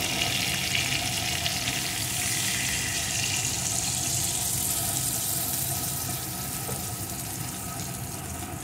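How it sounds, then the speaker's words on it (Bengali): Water is poured into a pan of tangra fish and eggplant curry, producing a steady, close rushing hiss that softens slightly toward the end. "এখন আমি এর ভিতরে দিয়ে দেবো পরিমাণ মতো জল"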